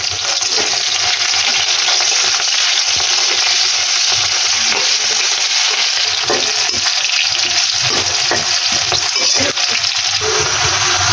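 Chopped onion and green chillies frying in hot oil with panch phoron, a loud continuous sizzle with occasional stirring scrapes, no voices.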